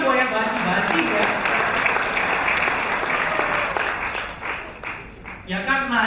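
Applause from an audience at a health product presentation, steady dense clapping with voices mixed in throughout, tapering slightly near the end.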